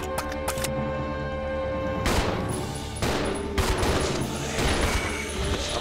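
Rapid gunshots from Resident Evil 0 HD Remaster ring out in a dense burst of repeated sharp reports, with heavier blasts around the middle and end over a continuous game soundtrack, and no voices.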